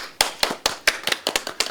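Hands clapping in a short burst of about eight sharp, uneven claps, close and loud, with no talk over them.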